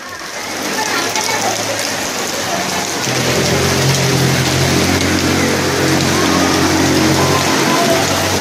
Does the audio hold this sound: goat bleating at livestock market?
no